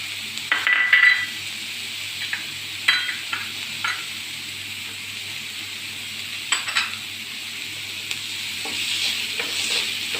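Chopped tomato and capsicum frying in a pan, a soft steady sizzle with scattered scrapes and clinks of a spoon stirring against the pan, close up and without speech.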